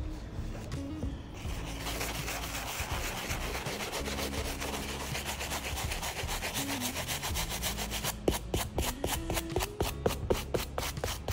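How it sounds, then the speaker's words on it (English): A brush loaded with cleaning foam scrubs the midsoles of canvas sneakers in close, steady back-and-forth strokes. The scratchy rhythm continues throughout and turns into sharper, more distinct strokes near the end. "use the standard brush and apply some foam directly onto the brush. And I'm going to start cleaning the midsoles."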